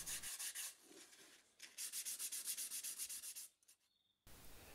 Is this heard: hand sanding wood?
yes